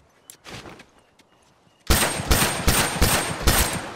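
Rifle gunfire in a shooter video game: a few faint distant shots, then a loud close burst of about six rapid rhythmic rounds.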